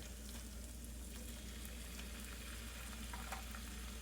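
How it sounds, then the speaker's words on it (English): Finely chopped onions and garlic frying in oil and butter in a pan, a continuous close sizzle with soft crackles and a low steady hum underneath, no voices. "So now we're going to add our onions, finely chopped, and add our garlic."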